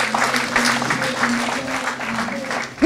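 A church congregation claps and cheers together in a steady, lively burst of applause that fills the room, ending with a sudden loud sound at the very end.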